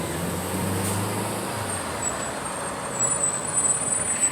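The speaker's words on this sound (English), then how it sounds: "look, there's Con Edison truck over there" A Con Edison utility truck on a city street sends out a low engine rumble that hums for the first half and then fades into general traffic noise and a faint high whine.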